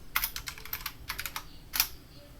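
Short burst of typing on a computer keyboard while entering an echo command in a Fedora KDE 39 terminal, with quick clustered key clicks, a pause, then a single firmer keystroke, close and alone.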